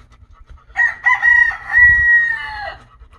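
A rooster crows once outdoors on a sunny morning, a loud, close, drawn-out call of about two seconds with a few choppy opening notes and a long sustained finish, with no one talking over it.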